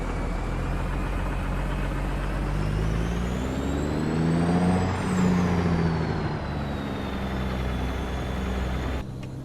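A heavy truck in American Truck Simulator hums along with a steady low engine drone, a high whining whir rising and falling over it, and a brief hiss in the middle.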